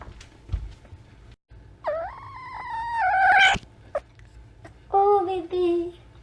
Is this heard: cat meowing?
yes